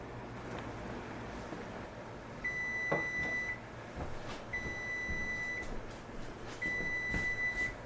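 An oven control beeps in three sustained electronic tones, each lasting about a second and spaced a couple of seconds apart, as it is set to 375 for baking gluten-free, dairy-free sourdough bread, over a low room hum.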